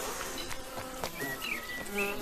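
Honeybees buzz in flight around lime trees, their drone a steady, close hum with brief louder passes as individual insects swing near.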